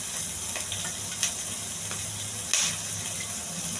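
Sliced onion fries in a little hot oil with cumin and curry leaves as the base for a potato curry, a continuous close sizzle broken by a few sharp spatters and pops.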